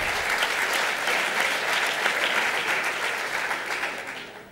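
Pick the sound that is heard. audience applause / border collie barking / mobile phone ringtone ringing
audience applause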